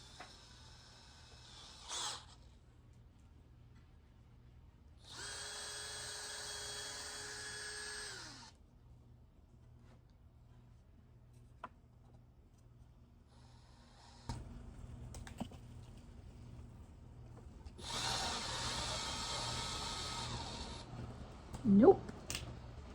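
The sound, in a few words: power drill pre-drilling holes in scrap wood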